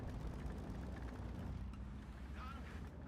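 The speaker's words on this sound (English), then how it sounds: "Sure sounds like an engine." Tank engine in the War Thunder video game, a steady low rumble droning throughout with broadband wind-like noise, continuous and fairly loud with no clear talk.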